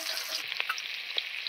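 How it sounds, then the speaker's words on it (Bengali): Chopped onion hits hot oil in a pan just after fish was fried, with five-spice seeds already added. It makes a steady, close crackling sizzle with a few sharper pops and spatters throughout. "তারপর দিয়ে দিচ্ছি পেঁয়াজ কুচি।"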